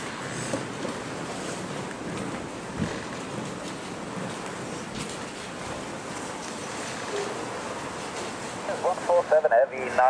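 Strong wind roars steadily during stormy early-morning weather at Zurich airport, a broad continuous rush buffeting the microphone, with a brief voice near the end.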